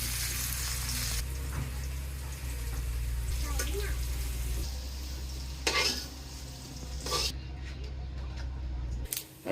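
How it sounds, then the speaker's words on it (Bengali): Potatoes frying in a pan as the first step of a meat curry, a steady sizzle with scraping stirs and occasional clinks of a utensil against the pan. "মাংস রান্নার জন্য এখন এই যে আলু ভাজি হইতেছে প্রথমে আলু ভাজি করতেছেন"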